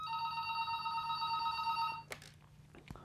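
A telephone rings for an incoming call, a bright steady electronic trill held for about two seconds before cutting off, followed by faint handling clicks and a quiet room.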